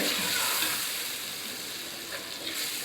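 Tomato with chili powder and coriander powder sautéing in a pan, a steady soft sizzle with faint stirring scrapes, fairly quiet and continuous.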